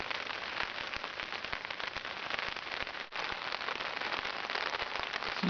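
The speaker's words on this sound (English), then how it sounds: "It started raining again." Steady rain patters densely on a hard surface nearby at a wild camp on the Vercors high plateau, a constant hiss of drops with a brief dip partway through.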